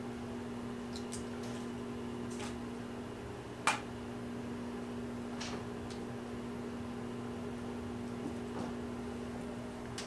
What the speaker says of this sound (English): place the butter in the microwave for about 15 seconds